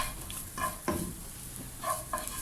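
Dried coconut dry-roasts in a pan, stirred with soft, intermittent scraping strokes over a faint, low crackle.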